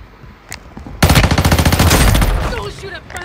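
Rapid automatic gunfire rings out in the mobile shooter Warzone Mobile on Rebirth Island. After a single earlier shot, a loud, close burst of about a second and a half follows. A voice is heard faintly around it.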